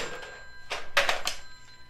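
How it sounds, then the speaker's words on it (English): An office telephone bell rings in the Oval Office, two or three short bursts of ringing, fairly close and clear, with no talk over it. "my other phone's ringing."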